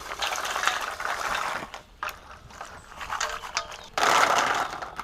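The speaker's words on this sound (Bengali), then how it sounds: "বাদামগুলো সব ছড়া হয়েছে এখন ধুয়ে নেব" Shelled peanuts being washed in water for kotkoti, a broadband splashing and sloshing that stays steady for the first two seconds. It breaks into uneven swishes, then swells loud again near the end, with no talk.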